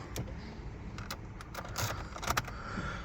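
Keys jangle in a Nissan Note's ignition as it is switched on, a run of metallic clinks and taps close by over a steady low interior rumble.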